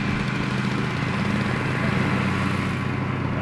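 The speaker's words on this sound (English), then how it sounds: "They fixing to start mowing" A lawn mower engine runs steadily and loudly at close range, a constant droning hum with no pauses, as mowing gets underway.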